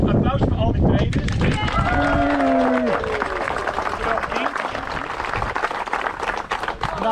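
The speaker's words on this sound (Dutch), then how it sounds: "Even een applaus voor al die trainers." Applause for the trainers at the 20th-anniversary run of the REactive running club in IJsselstein, outdoor crowd clapping that carries on steadily, with people talking over it.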